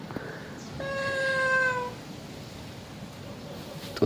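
A single cat gives one drawn-out meow lasting about a second. It sounds close and clear over a quiet room hum, with no one talking.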